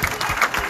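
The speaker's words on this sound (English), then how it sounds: "Give yourselves a round of applause for your continued support." A crowd applauds at a football club's Player of the Season awards night, a brief, steady wash of clapping with no pauses.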